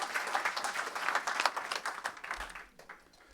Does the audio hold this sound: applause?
yes